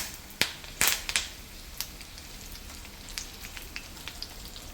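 Curry leaves hit hot frying oil while sev namkeen is being made, bursting into a cluster of sharp crackling pops that settles into a steady sizzle with scattered lighter spits.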